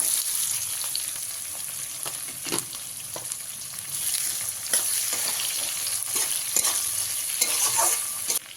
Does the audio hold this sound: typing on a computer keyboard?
no